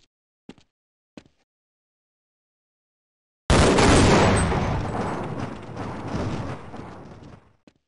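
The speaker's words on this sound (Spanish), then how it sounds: "Escucho disparos" Gunfire and explosive blasts in the virtual reality game Half-Life VR: two short isolated pops, then a loud sudden eruption of heavy firing and rumbling that gradually fades.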